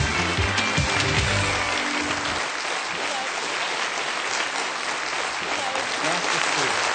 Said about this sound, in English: let's give them a nice big clap